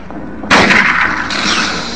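A single heavy rifle shot in the Silent Hill 1 video game, a loud close blast that bursts in abruptly and leaves a long, bright ringing decay.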